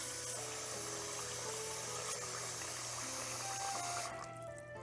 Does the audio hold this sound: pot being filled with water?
yes